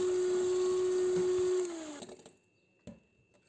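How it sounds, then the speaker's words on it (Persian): An electric mixer whirs steadily while beating egg yolks with sugar, a loud high whine for a second and a half before it winds down and stops, then a faint clink. "حالا زرده ها و بقیه شکر رو با همدیگه مخلوط میکنیم تا کرمی رنگ بشه"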